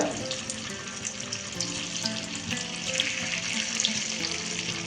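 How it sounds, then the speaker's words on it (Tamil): Paneer cubes roasting in about four tablespoons of ghee on a tava over medium-low flame, giving a steady, fairly soft sizzle and crackle throughout with no pauses. "ஒரு தவாவில் நான் வந்து ஒரு நாலு டேபிள் ஸ்பூன் அளவு நெய் விட்டுட்டு அதில் இந்த பன்னீரை நல்லா ரோஸ்ட் பண்ண போகிறேங்க"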